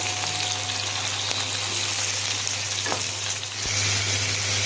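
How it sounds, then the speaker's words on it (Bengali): Vegetables with onion and dried fish frying in a pan, a loud continuous sizzle with a low steady hum beneath and a faint knock or two, no talking. "সবজিগুলো একটু ভেজে নিচ্ছি।"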